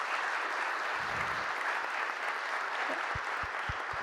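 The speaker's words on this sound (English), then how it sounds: "one applause for our panelists" An audience at a space data conference applauds its panel, a faint, steady patter of clapping from a seated room, with a few soft low thumps near the end.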